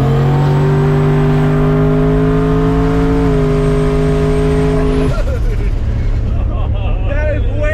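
A turbocharged Ford Marauder sleeper car's engine runs loud and steady with rising harmonic tones, then shifts sharply partway through into a rougher, fluttering roar, heard close with no talk over it.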